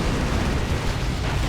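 The Strangle Thorn Cannon fires in a Warhammer 40k: Dawn of War 2 multiplayer battle, giving a loud, dense, continuous blast-like roar of rumbling noise with no speech over it.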